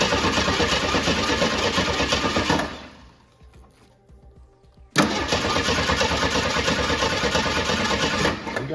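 AMC Eagle engine cranking steadily with its Ford-type starter solenoid jumped on the fender well, loud and continuous, breaking off for about two seconds before resuming, without catching.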